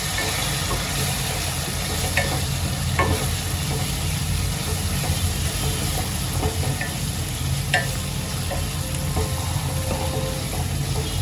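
Ground spices such as turmeric and garam masala stirred together in a hot, sizzling frying pan for Maharashtrian masala rice, a steady scraping and frying hiss with occasional spoon clicks against the pan, close and continuous.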